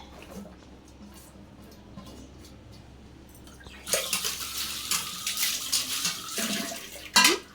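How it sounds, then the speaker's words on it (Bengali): Vegetables, including pointed gourd, are washed under a running tap in a kitchen sink; the water starts partway through and splashes steadily and close, after a quieter stretch of faint kitchen clatter. "শাকসবজিগুলো আমি ধুয়ে নিই।"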